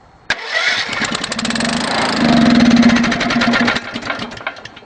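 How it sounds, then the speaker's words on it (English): A starter motor whirs and cranks a newly installed engine on a Gas O Matix 9000 build, a loud rapid chattering turnover lasting a few seconds before it cuts off, close and without talk. "Power on, starter motor start."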